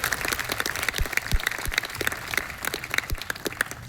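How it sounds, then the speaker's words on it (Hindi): At a Hindi poetry gathering, audience members clap loudly for Bihar in a lively burst of uneven claps that rises and falls, with no talk over it. "बिहार के लिए बिहार वाली तालियां एक बार होनी चाहिए।"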